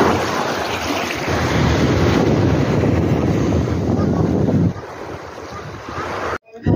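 Sea waves wash onto a provincial shore beside rental cottages, a loud continuous roar of surf mixed with heavy wind buffeting the microphone, easing briefly before cutting off.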